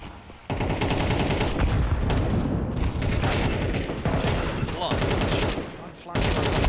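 Rapid automatic gunfire in a Counter-Strike match, loud and close, sustained bursts filling most of the moment with brief gaps between volleys.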